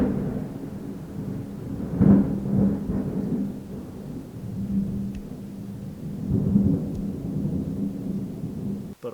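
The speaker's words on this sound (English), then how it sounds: "Crazy thunderstorms." Thunder from a thunderstorm rumbles in long, deep rolls, swelling and fading over several seconds, loud and continuous with no voices.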